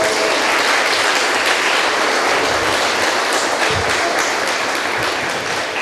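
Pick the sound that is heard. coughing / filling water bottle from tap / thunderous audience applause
thunderous audience applause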